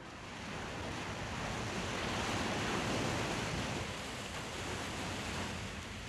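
Stormy North Sea waves in force 10 wind, roughly halfway between Norway and the British Isles, make a loud, continuous roar of surf and wind that swells and eases slightly.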